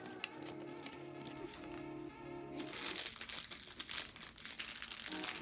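Packing paper from a 10-inch ring light box crinkles and crumples steadily, with a low hum early on and louder rustling and crushing in the second half.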